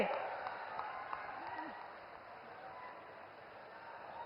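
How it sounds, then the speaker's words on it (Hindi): Crowd applause at a large election rally in East Champaran for the Prime Minister, distant and fairly faint, a continuous wash of clapping across the whole stretch. "जोरदार तालियां बजती रहनी चाहिए"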